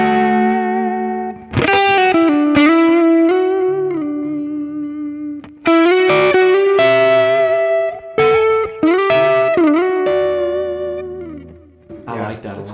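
Electric guitar played through a 1981 DRV high-gain pedal, thick distorted notes and sustained chords with chorus and echo, loud and close, phrases separated by brief stops, no talking.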